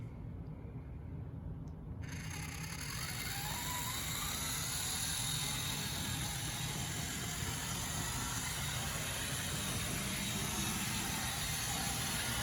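Repowered Life-Like HO scale 0-4-0T "Teakettle" model locomotive running around the track, a steady motor whir and rail rumble that holds even and continuous throughout, with no talking.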